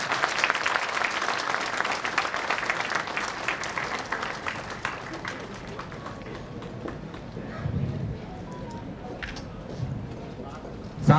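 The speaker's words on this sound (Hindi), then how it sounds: "तालियों से गूंजना चाहिए इस सभा का" Audience applause at the 67th Rail Week award function of an Indian railway, with a broad wash of clapping strongest early on that slowly thins as a voice talks over it.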